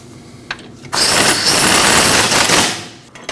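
A power tool buzzes loudly for about two seconds as the rear shock bolt goes in on a Jeep Cherokee rear suspension, with a short tap before it and a quick stop after.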